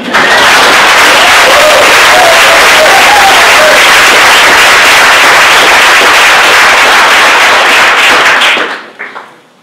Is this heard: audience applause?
yes